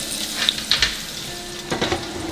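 Batch of rib tips deep frying in hot oil, a close crackling sizzle with bursts of bubbling and a few utensil clinks.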